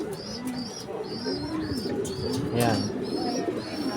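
Racing pigeons returning to the loft after a sprint race coo repeatedly in soft, rhythmic phrases close by, with a voice briefly speaking over them.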